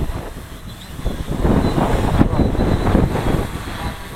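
Steady wind rumbles and buffets the microphone throughout beside a 650 motorcycle, with low gusty roar swelling slightly midway.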